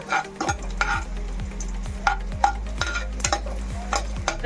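Dry fruits such as almonds fry in a pan for payasam, a steady low sizzle under repeated close scraping stirs of a spoon against the pan, rhythmic and loud, with no talk.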